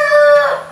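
A farmyard rooster crows in one short, loud, tonal burst that fades toward the end, with no other sounds.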